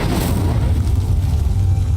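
Incendio fire spell in Hogwarts Legacy setting a pyre ablaze with a deep, continuous whooshing roar of flames. It is loud and sustained for the whole moment, with no speech over it.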